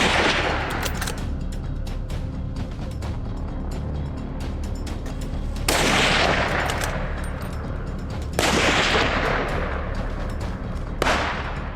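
Several sharp rifle shots crack out at intervals during a wild hog hunt, each with a long echoing tail over a steady rumbling background.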